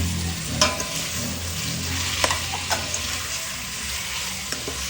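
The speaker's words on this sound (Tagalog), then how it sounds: "Kahit ipiprito-prito ng konti." Carrot and chicken sizzle in a hot pan as a spatula scrapes and knocks against it in scattered strokes, close up, with no voices.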